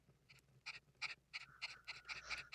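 A puppy pants rapidly in Nintendogs + Cats, a close, quick series of breathy huffs in an uneven rhythm, with no speech.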